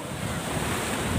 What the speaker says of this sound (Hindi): पीछे से आ रहा है बहुत तेज पानी